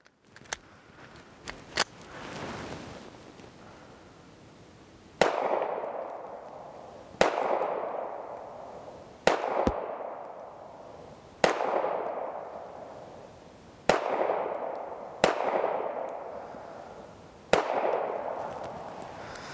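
Seven sharp pistol shots from a Kimber Micro Raptor .380 fired with a larger-base-plate magazine, spaced about two seconds apart, each crack followed by a short decaying echo, with a few lighter clicks and clanks near the start.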